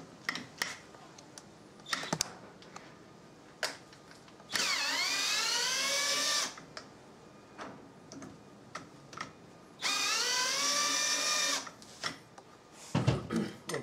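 A power driver sinks screws during a drive test, heard as two sustained motor whines of about two seconds each, rising in pitch, separated by scattered clicks and handling taps from the tool and workpiece.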